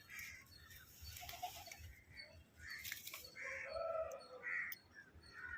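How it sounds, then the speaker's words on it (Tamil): Pigeons flying and circling overhead above a terrace garden, soft wing flaps and scattered chirps and calls at a distance, faint against a quiet outdoor background. "புறா எல்லாம் மேலே வட்டம் பிடுது"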